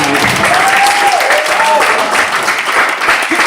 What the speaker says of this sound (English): A round of applause for Jana and everybody.